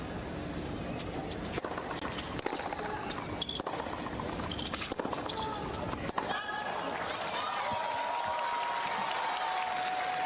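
A tennis crowd applauds and cheers after an ace, a dense burst of clapping and chatter that fades into a quieter murmur of the stadium.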